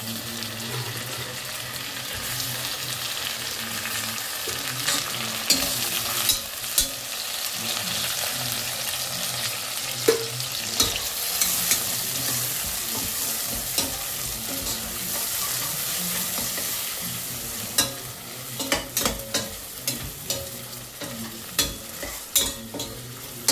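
Tomatoes go into a pan of browned onions, ginger and garlic for chicken biryani, with steady frying sizzle under repeated stirring and spoon scrapes, ending in a run of sharper clinks and knocks.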